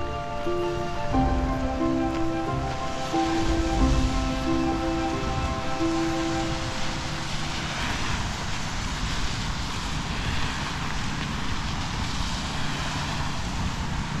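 Steady rain falls on a city street near railroad gates on East Market Street, a constant broadband hiss with tonal hum from traffic or a passing vehicle early on, recorded while walking with no talking.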